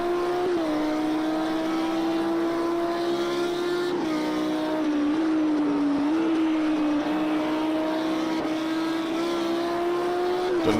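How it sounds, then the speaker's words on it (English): GT3 race car engines in a sim racing game drone loudly and steadily, pitch rising and dipping through gear changes and braking, close and continuous with no talking. "Now down into 3rd gear, back on the power, hard on the brakes, down into 2nd."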